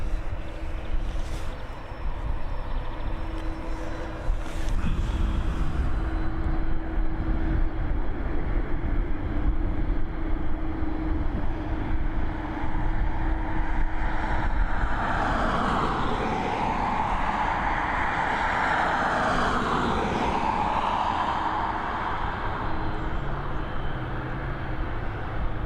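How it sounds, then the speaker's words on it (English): An ATR 72-600 turboprop departs Dublin Airport as a steady, broad engine roar that swells louder midway with a rising, sweeping whine, then holds as a sustained drone. "Looks like we're going to have back-to-back ATR 72-600s on departure as well."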